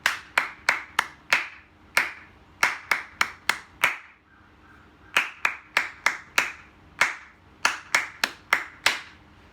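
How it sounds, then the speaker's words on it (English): A single person claps a counting rhythm in a music lesson. The crisp, close hand claps fall in even groups of quick and slower beats, with a short pause between phrases and no talking. "let me clap that again for you"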